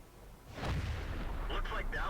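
A tank destroyer's gun fires in World of Tanks, a heavy broadband boom with a deep rumbling tail that keeps ringing loud, and brief high whistling tones come in near the end.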